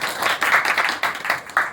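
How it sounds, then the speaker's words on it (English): Students in a classroom debate give a round of applause: a short, lively burst of hand clapping in uneven pulses, close and fairly loud, with no talk over it. "give him a huge round of applause"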